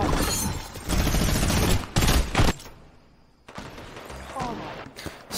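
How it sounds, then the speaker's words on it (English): Rapid Fortnite gunfire in Gun Game mode, dense loud bursts for about two and a half seconds, a brief lull, then more shots crackling back in toward the end. "Stop shooting me!"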